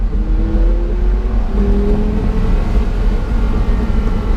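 A 2004 Porsche Carrera GT engine revs with a steady throaty drone, pitch rising and falling as the revs change, close and loud with no talking.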